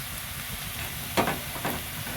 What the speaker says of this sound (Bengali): এখানে দিচ্ছি গাজর আর আলু গাজর আর আলুটা একটু ভাজা হয়ে গেলে